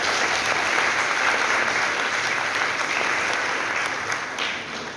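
Sustained audience applause at a book presentation and signing ceremony, a thick, even roar of many clapping hands with little variation and no talk, staying loud and steady before easing slightly near the end.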